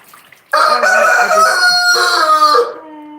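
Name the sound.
rooster crowing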